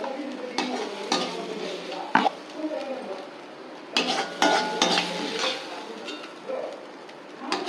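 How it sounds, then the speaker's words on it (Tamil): A cooked dish is scraped from a pan into a serving bowl with a spoon, giving several close clinks and scrapes of metal on metal among brief pauses, with quiet background sounds. "இதை வந்து நான் இந்த சர்விங் பவுலுக்கு மாற்றிடுறேன்"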